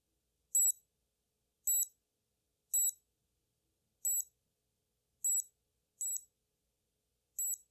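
Cyberwatch digital watch gives seven short, high electronic beeps at uneven intervals, crisp and close against total silence.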